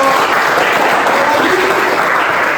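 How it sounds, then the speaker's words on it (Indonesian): Classroom audience applauding a student presenter named Dio during a school anti-bullying guidance session; dense, steady clapping from a group, loud and continuous throughout. "terima kasih tepuk tangan untuk Dio"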